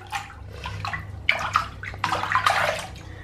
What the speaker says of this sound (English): I like to like crumble it in the water rather than just watch it fizz away